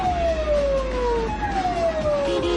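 Police car siren wailing past during a late-night chase through red lights, its tone sliding downward as it goes by, loud over a steady traffic rumble.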